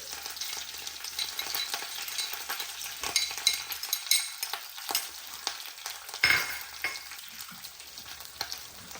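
Curry leaves, ginger and green chili frying in hot oil for pineapple curry, a close, steady sizzle with stirring scrapes and a sharper burst of spitting near the end, no talking.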